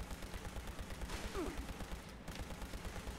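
Weapon gunfire in Fallout 76 rattles in a fast, steady rhythm of rapid shots, fairly faint, with a brief high whine in the middle.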